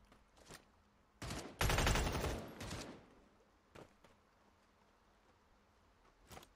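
Gunfire in the video game Badlanders: a few scattered shots, then a loud rapid burst of automatic fire lasting about a second, followed by sparse single shots spaced out over a quiet background.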